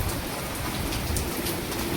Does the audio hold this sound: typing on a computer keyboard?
no